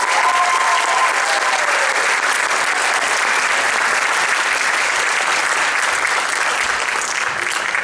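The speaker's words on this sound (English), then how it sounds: "Can we have one more round of applause for our Viking men's choir?" An audience applauds a men's choir at a school performance, dense sustained clapping from a large crowd that stays loud and even throughout, with no voices standing out.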